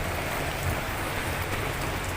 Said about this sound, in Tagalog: medyo malakas ng ulan ngayon